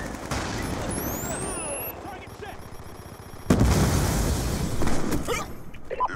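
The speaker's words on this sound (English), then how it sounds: "Friendly Hellstorm missile inbound." A Hellstorm missile blasts in a Call of Duty Black Ops 2 multiplayer match, a sudden loud boom midway amid ongoing gunfire and battle noise, with voices talking over the action.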